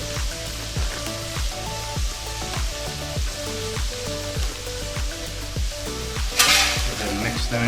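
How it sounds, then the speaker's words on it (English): Ground meat and onions sizzle in a frying pan for an egg roll in a bowl, with steady loud frying under a rhythmic scrape of a utensil stirring the pan about every half second. "Now that we've cooked all the pink out of the meat, we're going to go ahead and add some onions."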